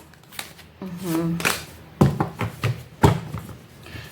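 Tarot cards are shuffled by hand in a few quick riffling bursts and soft slaps, close and moderately loud, with a person talking over parts of it.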